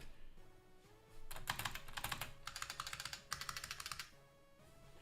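Rapid typing on a retro computer keyboard with an RJ11 jack, a burst of clicky keystrokes for a few seconds, close and fairly loud, with a faint tone in the background and no talking.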